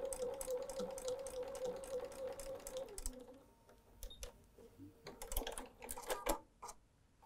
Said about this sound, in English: You can hear the machine working hard.